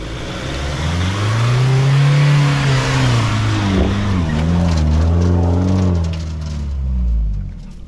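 A Mahindra 4x4 engine revs hard while the vehicle drives, loud and close, the pitch rising and falling through several surges before easing off near the end, with no voices over it.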